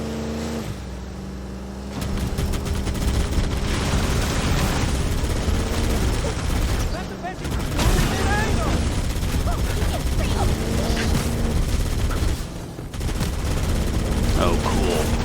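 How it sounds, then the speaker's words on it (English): Gunfire and exploding barrels in a Halo game remake, dense rattling shots and blasts running almost continuously with brief dips, a steady engine-like hum beneath, and a voice talking over parts of it. "Blowing of the barrels when you're firing"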